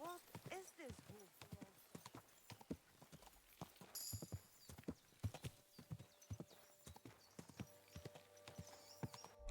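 Steady clip-clop of horse hooves with a short whinny near the start in Kingdom Come: Deliverance 2, while a person talks over the steps and faint game music plays.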